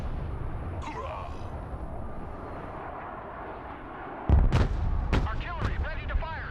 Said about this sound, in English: Artillery ready to fire, sir.